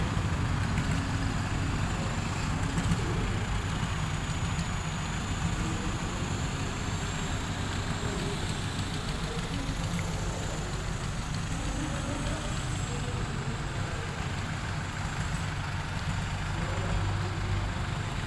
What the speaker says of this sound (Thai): ตามมาด้วยขบวนของรถกระบะแต่งกระบะซิ่ง